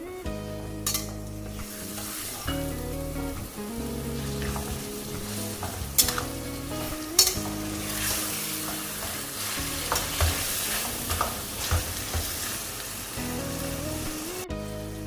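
Minced keema fries in oil in a pan for an extended stretch, a steady close sizzle broken by repeated scraping stirs and occasional sharp clinks of the spoon.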